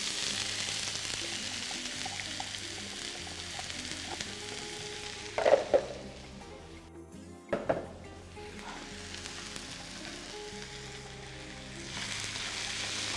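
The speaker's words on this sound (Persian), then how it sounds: "خب روغن سرخ شده، پیاز اضافه میکنم" Onion hitting hot oil for a spinach-and-greens sambosa filling, a steady broadband sizzle with two sharper crackling bursts partway through as pieces go in, then the frying settles back to a continuous hiss.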